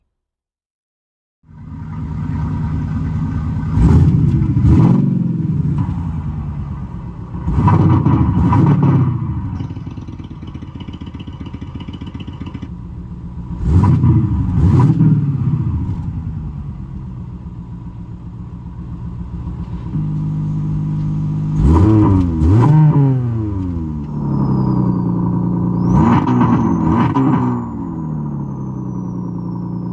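A BMW X5 G05 with an electronic active exhaust system idles and repeatedly revs up with deep, throaty exhaust roars, several bursts over a steady rumble.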